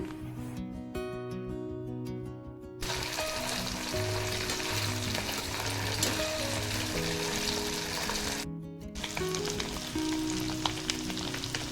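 Sun-dried fish fries in a pan with a constant crackling sizzle, while background music with sustained tones plays throughout at moderate volume.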